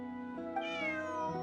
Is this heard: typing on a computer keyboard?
no